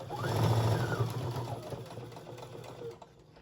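A sewing machine stitches a kitchen towel with a close, continuous whirring hum that eases off toward the end as the run slows and stops.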